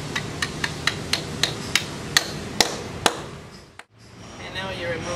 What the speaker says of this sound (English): And you just take your sledgehammer and drive it into the hole.